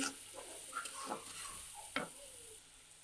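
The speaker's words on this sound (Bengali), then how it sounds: "আমি মশলাটা ভালোভাবে কষিয়ে নিব।" Spice paste with green chili paste is sautéed and stirred in a pan for a hilsa fish curry with potato and eggplant, giving a soft, steady sizzle with scraping stirs close by.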